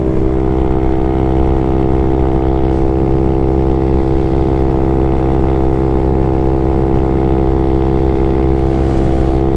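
A small Honda Grom motorcycle engine drones steadily at high revs in top gear, a constant buzzing hum that holds the same pitch throughout with no talking.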